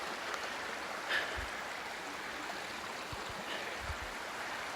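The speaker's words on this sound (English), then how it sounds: "Oregon mountain stream." An Oregon mountain stream flows in a steady, soft wash of water. It sounds fairly distant and is heard alone, with a few faint low thumps.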